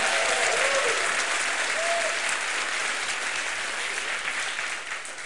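A church congregation claps loudly together during a sermon, a dense continuous burst of applause that fills the space and then starts to fade near the end.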